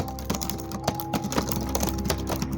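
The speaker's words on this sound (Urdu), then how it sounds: "پورے فلور پر ٹائپنگ کی آوازیں آنے لگیں" Rapid, continuous keystrokes clatter across a quiet office floor, many keys tapped at once in an uneven rhythm with no voices, like a crowd typing on computer keyboards in a call center.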